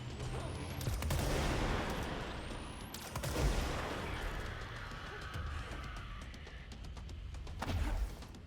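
Gunfire in the video game Control, sharp bursts of shots and crashing impacts in quick clusters, fairly faint, with a voice speaking at times.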